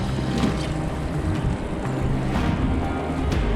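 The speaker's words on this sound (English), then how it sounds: "you can see the drop and hear the whirlpool" Whirlpool in a tidal current running about seven knots at full flood tide, a steady loud rushing and churning of water mixed with wind buffeting the microphone, continuous and close throughout.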